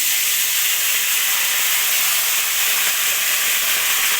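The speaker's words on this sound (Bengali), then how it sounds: "এখানেই আমি এখন সবজিগুলো ছেড়ে দেবো এই তেলের মধ্যে" Vegetables hit hot oil in a pan that has just fried prawns, producing a loud, unbroken hiss of sizzling. It holds steady throughout without pauses.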